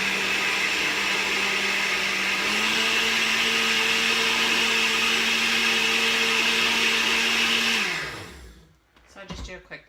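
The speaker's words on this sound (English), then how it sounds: "So I just do a quick little blend." A blender whirs loud and steady while frothing bulletproof coffee, its motor pitch rising a little partway through before it spins down and stops, leaving faint clinks.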